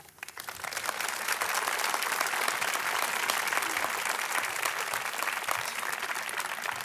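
Audience applause at a university sustainability announcement, a dense steady clapping that swells quickly and holds for several seconds as a speaker is welcomed to the podium.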